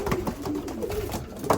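Young racing pigeons cooing close by, a soft, continuous murmur of low throaty coos with a faint brighter call near the end.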